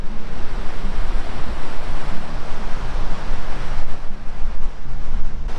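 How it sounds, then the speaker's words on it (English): Ocean surf washing onto the shore right in front of a coastal spot along a London-to-Dakar motorcycle route, a steady loud roar of breaking waves mixed with wind buffeting the microphone, no voices. "Have a look at how close we are to the ocean."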